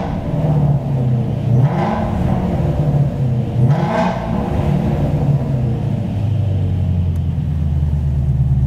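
Ford Mustang GT350 (2015-2020) with an MBRP exhaust in sport mode, a loud, steady deep rumble at idle with two brief revs rising and falling partway through, close and alone.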